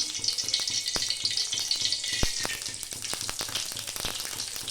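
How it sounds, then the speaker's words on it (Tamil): Continuous sizzling and crackling of mustard seeds frying in hot oil, with scattered sharp pops throughout, fairly close and steady. "பொரியலுக்கு எண்ணெய் ஊற்றி கடுகு போட்டுக்கலாம்"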